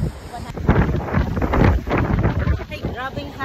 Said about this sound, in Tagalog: Grabe ang hangin, hangin.